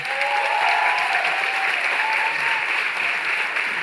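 Dense, sustained applause from a seated audience fills a hall at a Casa TPM talk, steady and fairly loud throughout with no voices over it.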